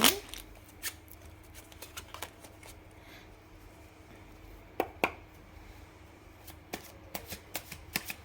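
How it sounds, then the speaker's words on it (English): Tarot cards being shuffled by hand close up, a quiet run of soft riffling and sharp slaps and flicks scattered irregularly over a low background hum, with no talk. "I'll be shuffling them on screen."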